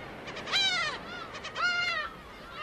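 Black-tailed gull chicks, about forty days old and leaving the nest on an island, let out two drawn-out, wavering calls, moderately close, with no other sound nearby.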